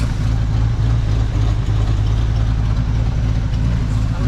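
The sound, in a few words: Chevrolet squarebody truck engine running with leaky exhaust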